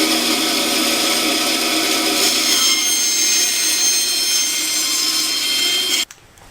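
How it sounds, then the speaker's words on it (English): A bandsaw cuts a half-inch clear pine board in one steady, loud, sustained whine that stops abruptly near the end. "we just trace our boat profile on a clear piece of this pine and cut it out on the bandsaw"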